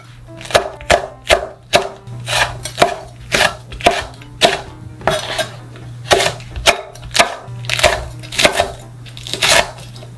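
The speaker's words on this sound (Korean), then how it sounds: "홍고추, 청양고추도 어슷어슷 잘라주세요." Knife chopping red chili and cheongyang peppers diagonally on a board, a run of crisp, evenly spaced close thuds about one per half second, heard alone without talk.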